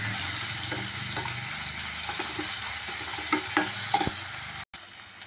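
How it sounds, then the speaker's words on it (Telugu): Onions with ginger-garlic paste fry in a pan for a curry, giving a steady loud sizzle with scattered scraping taps of a spoon stirring, broken by a brief drop near the end. "కొంచెం ఉల్లిగడ్డ మగ్గిన తర్వాత అల్లం వెల్లుల్లి పేస్ట్, కొంచెం అల్లం వెల్లుల్లి పేస్ట్ వేసుకొని కలిపేసుకున్నాం."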